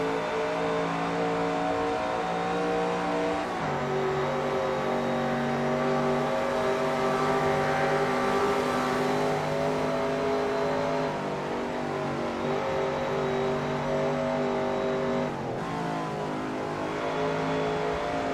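Vintage sports cars racing at Classic Spa Francorchamps in Assetto Corsa make a continuous loud engine drone, with several cars revving and shifting gears together and strong harmonic tones that rise and fall.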